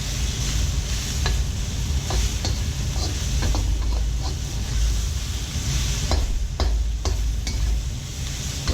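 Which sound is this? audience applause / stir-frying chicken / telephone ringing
stir-frying chicken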